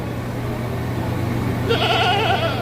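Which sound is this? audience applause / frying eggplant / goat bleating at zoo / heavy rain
goat bleating at zoo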